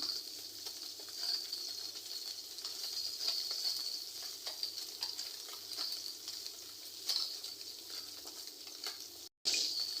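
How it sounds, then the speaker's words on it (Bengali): Small puti fish fry in hot oil, a steady close hiss with faint crackles that runs throughout and cuts out briefly just before the end. "আমি এখানে মাছ ভাজতেছি"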